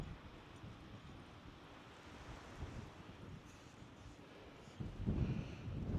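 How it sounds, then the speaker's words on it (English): Gusty outdoor wind rumbles and buffets the microphone beside stacked firewood, a low, steady roar that swells louder near the end. "So it's pretty windy out here."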